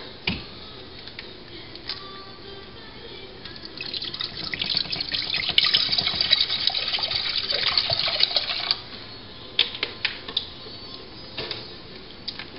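Water pours from a bottle in a steady splashing stream for a few seconds, followed by a few small drips and clinks.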